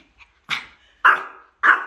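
A Pomeranian gives three sharp, close barks at a quick, uneven pace, with a faint yip just before them and short silent gaps between.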